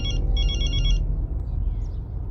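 A telephone rings with a bright electronic trill, two bursts close together over a low background hum, then stops.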